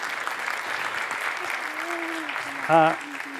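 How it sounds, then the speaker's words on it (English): Audience applause at a development policy panel event, a steady moderate patter of clapping filling the room while a voice briefly speaks over it near the end. "You're allowed to clap if you want to clap."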